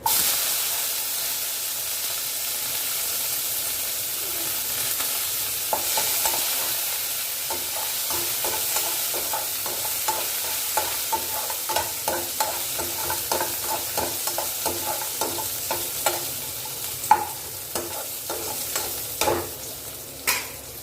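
Curry leaves, cumin and onion sauté in hot oil in a pot for a one-pot kuzhambu: a constant close sizzle and hiss, joined partway through by a steady run of rhythmic spoon scrapes and taps as the mix is stirred.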